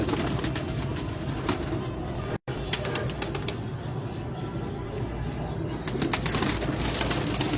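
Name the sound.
Lal Badshah breed pigeons cooing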